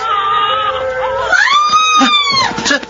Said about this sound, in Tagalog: Siya ang sumisigaw na yun!